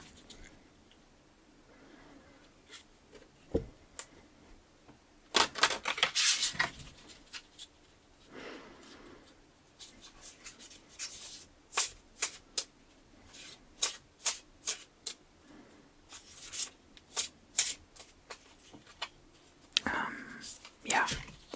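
Crisp, soft shuffling of tarot cards in repeated bursts up close, with quiet whispering and a few sharp riffles toward the end.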